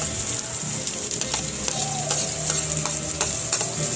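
Onion and garlic sautéed in a pan for ampalaya ginisa produce a loud, close sizzle with repeated scraping and clacking as the spatula stirs, while a soft hum runs beneath and no one speaks.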